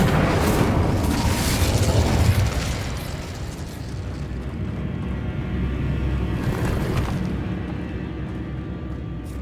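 Confringo and Incendio fire spells exploding in the video game Hogwarts Legacy, a loud roaring burst of blasts that peaks early, then settles into a sustained crackling rumble with another flare partway through.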